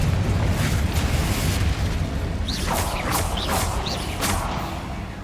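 Spell blasts from Hogwarts Legacy, Bombarda, Incendio and Confringo, rumble as a steady dense roar of booms and crackling bursts, with several sharper whooshing hits later on and no talking.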